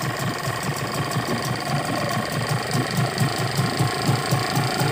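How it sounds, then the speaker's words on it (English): An outboard motor on a boat under repair runs with a rapid, steady mechanical chugging and knocking, close and fairly loud, a rhythmic engine pulse continuing throughout without talk. "we are going to start the engine"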